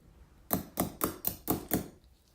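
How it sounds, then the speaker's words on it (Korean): Small hammer tapping a pin out of a metal watch strap, six quick sharp taps in an even rhythm, close and clear with no talking. "망치로 마지막에 한 번 더 밀어내 주셔야 되는구나"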